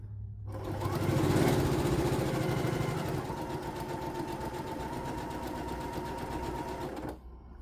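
A sewing machine stitches fabric for a boxy bag in a steady, fast mechanical whir. It runs close and continuously for several seconds, then stops abruptly.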